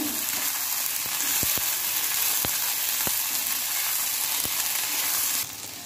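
Cluster beans for thecha sauté in an iron wok, giving a steady close sizzle with several sharp spatula clinks and scrapes against the metal, and no voices.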